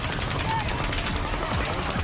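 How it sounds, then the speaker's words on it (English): Rapid rifle gunfire aimed at a crowd at an outdoor country music festival in Las Vegas, heard as dense, fast, distant crackling bursts over a noisy, echoing crowd backdrop. "That's the sound of bullets taking over the arena at a country music festival on the Strip."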